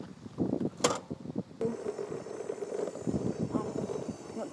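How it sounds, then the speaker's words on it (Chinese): A small motorcycle rides a rough 13-kilometre dirt road in rural Yunnan, its engine a steady close drone over wind buffeting and jolting bumps, with no talk. "出发，骑上我心爱的小摩托"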